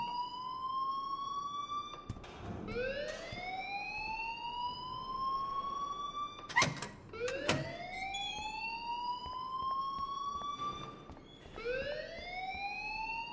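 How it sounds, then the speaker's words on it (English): Alarm in the video game Life Is Strange wails in repeated rising sweeps, each tone climbing and then holding steady, loud and continuous with a few sharp clicks in between and no talking. "please turn off that alarm since that's your job"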